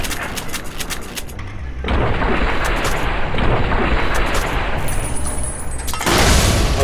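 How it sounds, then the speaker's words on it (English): Gunfire from a hollow rifle aimed at a gas tank held by an enemy in Fallout: New Vegas, giving a dense, loud burst of shots and a booming blast that stays steady for several seconds, with no talk over it. "See if we can shoot that gas tank out of his hands."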